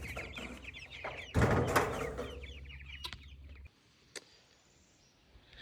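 Meat chickens clucking inside a chicken tractor, a mix of close clucks and chatter with a louder burst of fowl calls early on, fading to quiet scattered clucks near the end.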